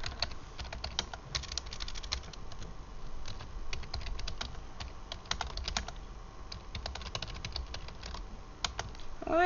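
Steady typing on a computer keyboard to enter text in Dreamweaver: rapid, irregular key clicks close by, continuing for several seconds with brief pauses and no speech.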